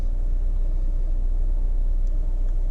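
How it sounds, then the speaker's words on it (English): A car engine idles in park with the air conditioning off, a steady low rumble that stays close and even throughout, with no speech. "That's the idle speed with the AC off in parking."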